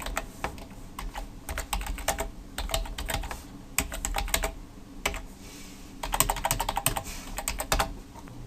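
Steady typing on a computer keyboard while logging in to a web hosting domain-management account, with bursts of rapid keystrokes and short pauses, fairly close and alone with no talk.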